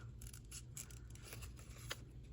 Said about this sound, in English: I have a little bit harder time driving these little scissors than I do the big ones